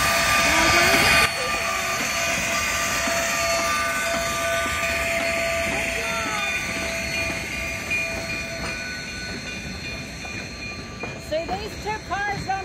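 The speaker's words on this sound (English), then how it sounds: "Is Kathy on this train?" A train rumbles past on rails at close range with a steady loud roar, metallic squeals and a whistle-like tone, continuous for the whole stretch, with rattling wheel clatter toward the end.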